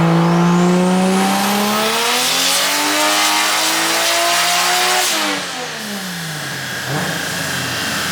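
A turbocharged 2JZ-swapped BMW E36 screams on a dyno, loud and close, its revs climbing hard then dropping off and settling into a lower drone with rising and falling tones, no voices heard.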